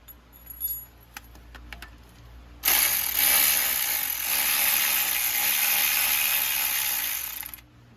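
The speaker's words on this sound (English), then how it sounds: "just take the bolts out, so we can take the compressor out safely" Bolts coming off a Jaguar S-type A/C compressor: a few scattered ratchet clicks at first, then a loud, sustained, fast ratcheting whir for about five seconds that stops abruptly.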